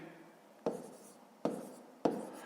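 Pen strokes on paper while working a long-division problem by hand, three short scratchy bursts each starting sharply and trailing off, close and fairly quiet with no talk.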